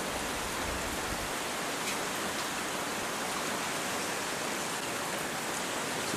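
Steady, dense rain and wind on a February evening in Blackheath, a continuous hiss filling the whole stretch without pause, fairly close and even in level, with no voices.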